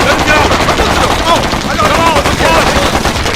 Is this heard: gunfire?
yes